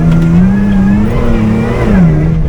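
A compressor-boosted Toyota FJ rally car with 35-inch tyres revs hard and accelerates, its loud engine note climbing and falling steadily through the whole stretch, close and continuous with no talk.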